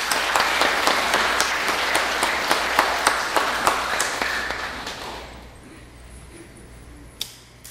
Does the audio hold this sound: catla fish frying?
no